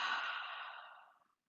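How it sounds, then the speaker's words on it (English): A single long, breathy exhale through an open mouth during a guided breathing session. It is close and soft, and tapers away over about a second into silence. "on the exhale, open mouth"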